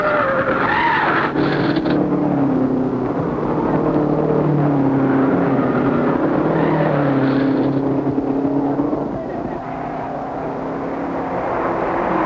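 A race car spins out at the 1951 Indianapolis 500, with tyre skidding and engines whining and rising and falling in pitch on an old, loud recording.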